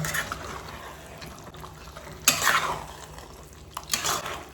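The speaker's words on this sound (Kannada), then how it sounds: "ಇವಾಗ ಇದನ್ನು ಮಿಕ್ಸ್ ಮಾಡೋಣ." A spoon stirs a curry in a cooking pot, soft wet scraping and a couple of louder clattering strokes against the metal over a low, quiet background.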